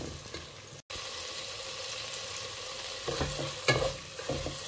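Mustard paste, spices and a splash of water simmer and sizzle in a pan for a spinach and black gram dal; a soft, steady hiss runs throughout, with a brief louder clatter of stirring near the end.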